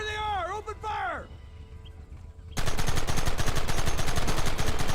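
Gunfire in the video game Red Dead Redemption: rapid, loud, continuous shots burst in suddenly and keep going in a dense volley, after a quieter stretch with a rising and falling whine.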